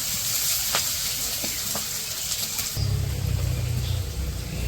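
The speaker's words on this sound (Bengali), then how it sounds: "পেঁয়াজ কাঁচামরিচ দিয়ে দিছে কড়াইয়ে" Onions and green chilies sizzle in hot oil in a wok for a village dish, a steady broadband frying hiss with a few sharp pops, shifting to a deeper, fuller crackle partway through.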